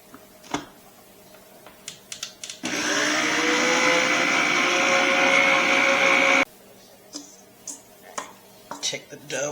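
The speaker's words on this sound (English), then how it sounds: "Okay, we got our dough hook attached. Just going to mix everything." A stand mixer with a dough hook works pizza dough, a steady loud whirring drone of about four seconds that starts and stops abruptly, with clinks and handling noises before and after.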